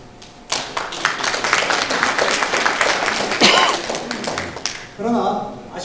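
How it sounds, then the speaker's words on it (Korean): Delegates at a union orientation clap together in a dense, steady burst lasting several seconds, and a voice begins talking just as it ends. "큰 박수를 보냅니다"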